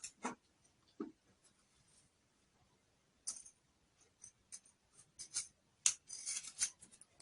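Scissors cutting fabric for an under-bust contoured blouse during pattern drafting and sewing, heard as scattered short snips and rustles, a couple near the start and a busier cluster toward the end, close and fairly quiet with no talking.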